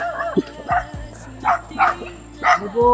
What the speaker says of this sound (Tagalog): Oy, may mga aso.